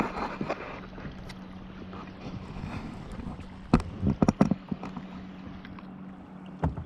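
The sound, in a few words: boat approaching on river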